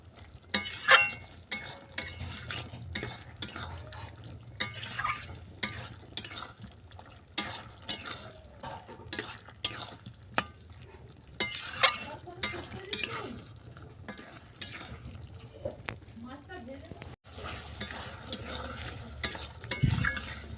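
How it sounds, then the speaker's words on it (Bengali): Khoira fish chachchori is stirred in a frying pan, with repeated scraping strokes and clinks of a spatula over a low sizzle, close and continuous throughout. "ভালো করে মিশিয়ে নেবে চচড়ির মধ্যে"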